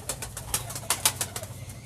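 Close rhythmic flutters and soft pulses, a female pigeon moving and cooing nearby in a short, steady series of beats.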